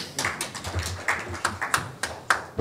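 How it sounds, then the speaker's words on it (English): A small audience at a panel event on persecuted and exiled journalists applauds as a speaker is welcomed, sparse distinct hand claps tapping irregularly at moderate distance, thin rather than a full ovation. "we can give him a round of applause"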